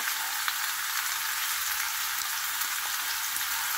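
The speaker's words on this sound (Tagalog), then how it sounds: "ilagay ko po yung ating gata" Coconut milk in a hot pan with a yellowfin fish head gives a steady, dense sizzle and crackle that holds evenly throughout, close and moderately loud, with no voices.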